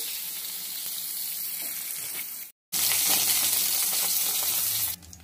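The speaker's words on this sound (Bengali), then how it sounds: "বেগুনগুলো লাল লাল করে ভাজা হয়ে গেছে" Eggplant pieces fry in hot oil with a steady, close sizzle for about two and a half seconds, a brief silent cut, then louder crackling frying that runs on before fading.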